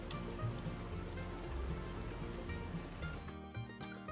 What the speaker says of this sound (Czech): poslední dobou tady prší docela často